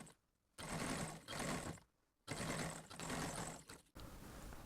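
Sewing machine stitching a pintuck on a pair of trousers, running in loud steady bursts separated by short pauses, close to the listener with no talk.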